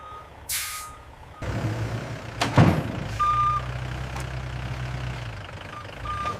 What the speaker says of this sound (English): Trucks arrive at the factory, queuing for unloading to begin the intake process.